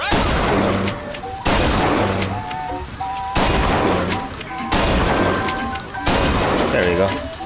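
Loud bursts of gunfire at a shooting gallery in BioShock Infinite, five separate volleys each lasting over a second and followed by an abrupt pause, with game music and voices underneath.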